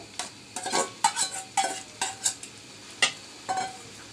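A homemade pasta dish cooks in a pan with an egg just added: repeated short scraping stirs and clinks of a utensil against the pan over a soft sizzle, in steady bursts roughly every half second, with no talking.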